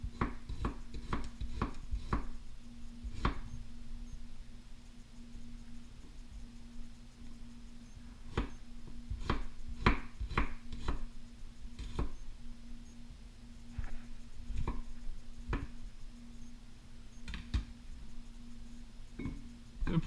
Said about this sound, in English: Should take about a minute or two to chop up ginger and turmeric.